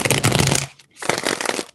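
A deck of tarot cards is riffled twice in quick, crisp bursts close up, with a short pause between the shuffles.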